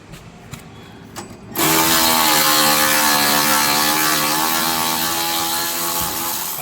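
Cordless battery impact tool spinning out sway bar bushing bolts on a 2007-2011 Honda CR-V front suspension, a loud, steady, close whirring drone with a ratcheting edge that starts abruptly after faint knocks and runs unbroken.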